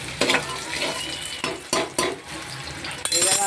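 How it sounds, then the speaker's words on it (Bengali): Onions with a little sugar frying in a pan, steady sizzle cut by several scraping stirs and clinks of a utensil against metal, close up with no talk. "আগে পেঁয়াজগুলোকে ভালো করে ভেজে দিতে হবে।"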